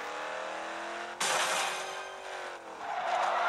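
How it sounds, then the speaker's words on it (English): A Porsche 918 in the Rebel Racing video game roars with a loud, steady engine note, surging harder midway as it accelerates, then dipping briefly before revving up again, with no talk over it. "the Porsche 918 sounds a little bit more different"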